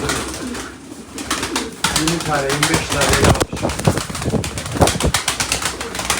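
Tumbler pigeons with white plumage coo softly in repeated low rolls beneath men conversing nearby, with occasional rustles and flutters.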